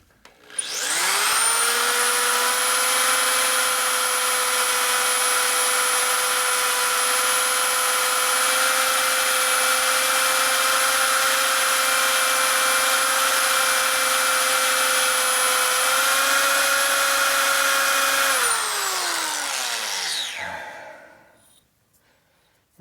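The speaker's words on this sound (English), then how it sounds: "I'm keeping my speed down a little bit so it drills better." Power drill running at low speed into a motorcycle part on a custom Harley chopper, a loud steady whining hum held for about eighteen seconds, pitch shifting slightly near the end before spinning down and stopping.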